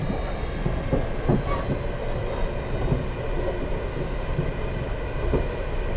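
Simulated Class 450 electric train accelerating in Train Simulator 2020 on the Portsmouth Direct Line, a steady rumbling rail drone with faint clicks and hums, continuous and even throughout, with no talking.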